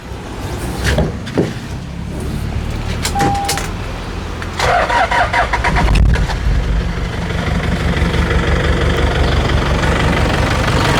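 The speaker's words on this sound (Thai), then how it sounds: "เดี๋ยวชวนชมฟังเสียงเครื่องเลยครับ" A used Toyota car engine cranks and starts, then settles into a steady idle hum, with a few clunks and knocks near the start.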